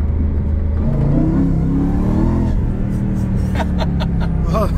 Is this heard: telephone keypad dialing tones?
no